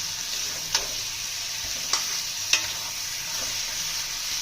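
Ritha river fish fries in masala with a steady close sizzle, broken by three or four distinct spatula scrapes and knocks against the pan, no voices.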